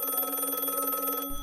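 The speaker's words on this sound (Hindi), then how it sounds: "उसके तुरंत बाद ही वापस उसी फ़ोन पे कॉल आई।" A telephone rings steadily in a horror story set in a hotel, a continuous electronic bell tone lasting about a second before cutting off, with no voices over it.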